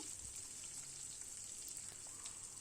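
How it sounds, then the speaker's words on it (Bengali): Chopped onion frying in oil with dried chillies and five-spice gives a faint, even, continuous sizzle with light crackle, heard from a little distance and without speech. "তো এইবার পেঁয়াজ কুচিটা দিয়ে দেব, দিয়ে ভালো করে ফ্রাই করে নেব।"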